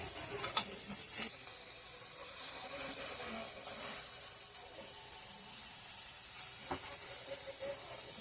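Cabbage dropped into a hot dry wok with no water gives a soft, steady sizzle and steamy hiss, with a couple of sharp clatters at the start and faint stirring scrapes later.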